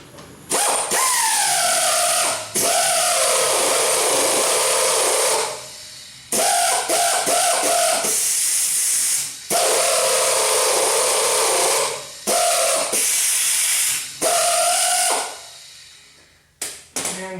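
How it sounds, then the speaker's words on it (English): An air ratchet drives a thread tap into a Romeo cylinder head to fit a thread insert. It whirs in loud, repeated bursts of several seconds each, separated by short pauses and brief clicks. "I'm going to go ahead and do it with the air ratchet"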